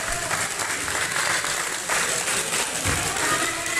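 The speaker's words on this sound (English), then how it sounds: "Simon Says as they stand and applaud their hero here tonight." A wrestling crowd at a vintage wrestling anniversary show stands and applauds their hero, a dense, steady wash of clapping filling the hall for several seconds with no break.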